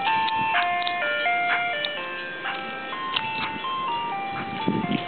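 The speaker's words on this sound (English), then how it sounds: "that's the ice cream truck over there in the street." An ice cream truck jingle plays out in the street of a storm-damaged neighborhood, a steady, tinny melody of stepping electronic tones carrying on continuously at moderate distance with faint background noise.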